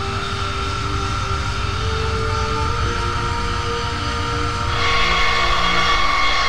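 A jet airliner's engines roar steadily during a takeoff roll in Flight Simulator X, a constant loud broadband rumble and whine that rises slightly in intensity toward the end.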